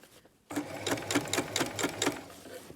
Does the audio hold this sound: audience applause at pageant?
no